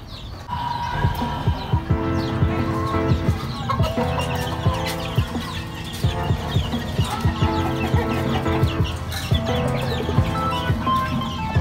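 Chickens and small chicks feeding together, a steady flock of close clucks and chatter running without a break, with no talk over it.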